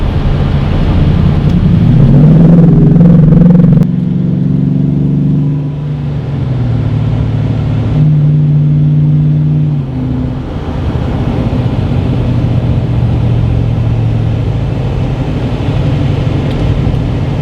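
A RAM 1500 truck with the 6.4 HEMI engine and 8-speed automatic accelerates hard, giving a loud, continuous low engine roar that climbs through gear changes and holds a steady rumble up close, with no talk.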